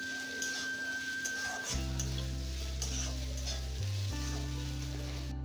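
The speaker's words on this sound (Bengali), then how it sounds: "এরপর এখানে অ্যাড করব লবণ, তাহলে পেঁয়াজটা ভালো করে ভাজা হবে।" Onions frying with salt in a pan for a Bengali mutton and potato curry give a steady close sizzle with scraping stir strokes over a low continuous hum.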